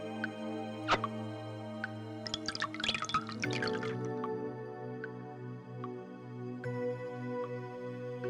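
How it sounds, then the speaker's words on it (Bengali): Cold water pours into hot tea in a brief splashy burst, followed by scattered drips over a steady tonal background. "একটু ঠান্ডা জল মিশিয়ে দে"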